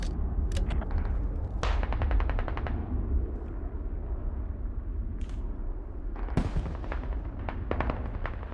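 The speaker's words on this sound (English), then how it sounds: "Hab just got airstrike." Airstrike explosions hitting a hab in the video game Squad, a long stretch of sharp cracks and rolling rumble with rapid crackling bursts, some bangs standing out loud and close over a constant low roar.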